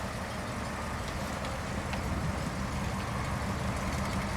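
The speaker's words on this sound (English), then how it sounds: "I just want to get a little exhaust note there." A 1957 Ford Thunderbird's exhaust sounds as a steady, fairly close engine rumble with broad noise, holding an even level for a few seconds with no talking.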